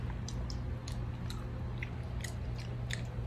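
Children chewing chocolate cookies up close, a steady series of crunchy bites and chomps over a constant background hum.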